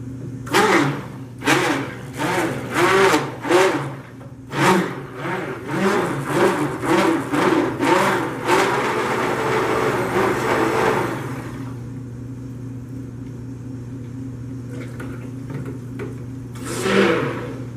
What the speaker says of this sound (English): I think I am going to dare to stick blend these just a bit.